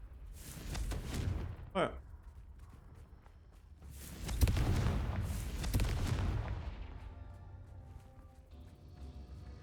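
Confringo fire spell blasts in Hogwarts Legacy, a series of booming bursts with crackling tails: one early blast, then a heavier rolling explosion midway that fades slowly, with a brief sharp whoosh between and a voice speaking once.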